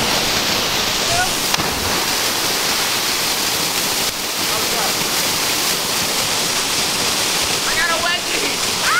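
A waterfall in Costa Rica roars with a constant loud rush of falling water close by, and brief voices break through faintly in places.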